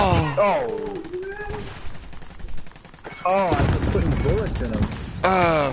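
Gunfire from a shooter video game, sustained rapid bursts of shots running through most of the stretch with excited voices shouting over it, loud and close.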